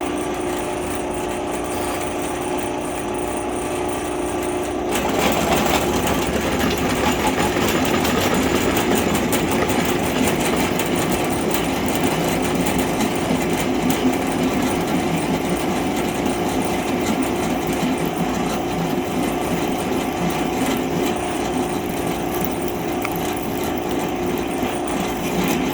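A power drill bores into a Mopar 3.7 engine block, a steady loud mechanical whir that starts after a few seconds of quieter workshop noise and runs continuously to the end.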